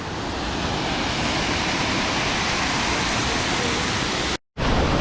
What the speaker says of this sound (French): il y a des belles vagues, pour surfer c'est pas mal